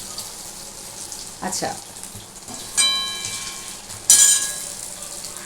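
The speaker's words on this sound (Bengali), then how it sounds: "এখানে আমার অলরেডি কিন্তু মোটামুটি বড়াগুলো ভাজা হয়ে এসছে" Lentil vadas for doi bora fry in hot oil, a soft continuous sizzle with a few louder bursts and clinks as they are turned; a voice briefly speaks.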